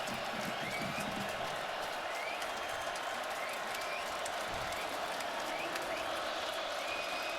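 Stadium crowd at an Iowa at Wisconsin college football game murmurs and roars as a dense, continuous wash of noise, with scattered whistles and shouts rising in the distance and some speech mixed in.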